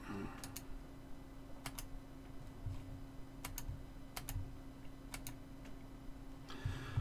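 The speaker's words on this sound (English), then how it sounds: "you just click it once" A computer mouse clicks on a desk, a handful of sharp, close clicks, some in quick pairs, spaced over a steady low electrical hum.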